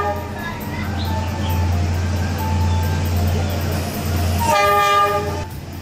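A train rumbles steadily close by, passing right beside cafes, its low drone filling the scene, with voices chattering faintly underneath and a sharper burst of rail noise near the end.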